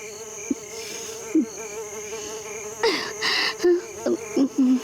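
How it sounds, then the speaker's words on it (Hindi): Mosquitoes whine in a cartoon, a thin high buzzing hum that persists throughout, close and steady, with short swooping flyby sounds and a few brief thuds and rustles. "मच्छर हमें जगाए हुए हैं और हम कुछ कर नहीं सकते"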